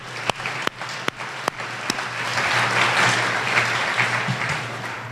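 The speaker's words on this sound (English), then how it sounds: "That's worth a clap." Guests at an aviation awards banquet start clapping: a few sharp, separate claps first, then a fuller round of applause that swells and holds, with a low hum under it.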